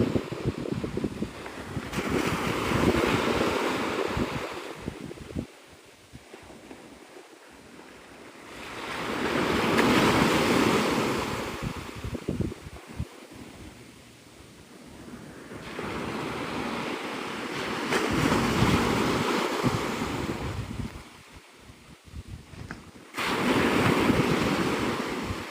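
Ocean surf at Navarre Beach, Florida rolls in as repeated loud crashing waves, each swell building and washing out in slow cycles, with steady wind noise buffeting the microphone and no voices.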